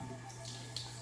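A water tap runs steadily into a sink to wet a makeup sponge, a close continuous gush with a faint splash near the end.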